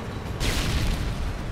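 A grenade going off in Modern Warfare 2: a sudden broadband burst that swells at once and holds as a dense, loud rumble over steady game background noise.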